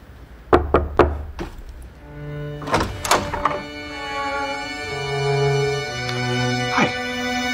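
Knocking on a door in a sitcom apartment scene: a few sharp, close knocks come early, followed by another cluster of raps, then sustained tonal music carries the rest.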